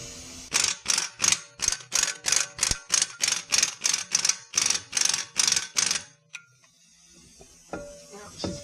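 Impact gun on a BMW wheel hub repair, loosening hub bolts with a rapid, loud, evenly spaced series of about a dozen hammering bursts, then stopping abruptly and giving way to quieter shop noises.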